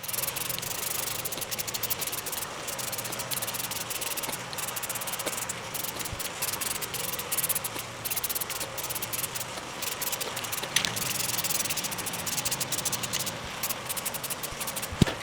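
Spray paint hisses continuously onto a Triumph TR4 exhaust manifold in a garage, a steady close-up aerosol spray with faint rattles and small bumps throughout.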